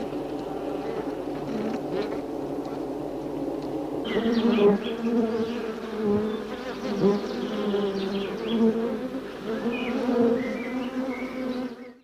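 Honey bees buzzing inside a hive, a dense close hum that thickens and grows louder after the first few seconds, with fluctuating tones as individual bees pass near, and no voices.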